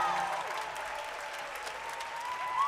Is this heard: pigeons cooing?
no